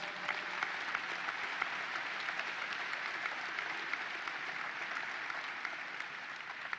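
Sustained crowd applause at the opening of a state fair, a dense, steady wash of many hands clapping at an even loudness for several seconds, with no one talking.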